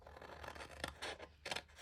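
Scissors cutting paper up along a score line, a few quiet crisp snips in an uneven rhythm, close and alone.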